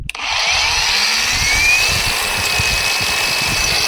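A Revolt cordless angle grinder spins up and runs steadily at close range, a loud continuous high whine with a slowly rising pitch and no voices.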